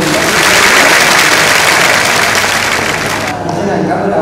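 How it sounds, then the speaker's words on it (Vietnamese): Congratulatory applause from delegates at a commune Party congress, a loud dense wall of clapping that holds steady, then cuts off sharply near the end. "Để bắt đầu chúng ta một tràng pháo tay chúc mừng."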